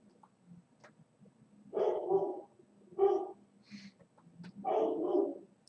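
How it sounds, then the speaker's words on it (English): A dog named Nico barks indoors in three deep, gruff bursts a second or so apart, moderately close, with quieter shuffling between. "I have no idea what he's barking at."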